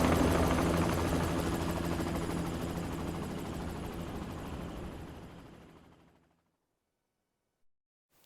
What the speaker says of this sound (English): Jiro shows up with Haruka in a helicopter